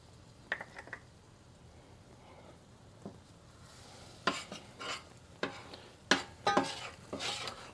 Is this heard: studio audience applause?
no